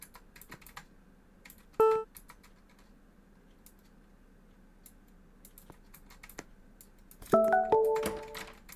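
Roblox door card readers give short electronic beeps: one brief tone near the start, then a quick cluster of stacked beeps near the end, over a quiet background of faint clicks.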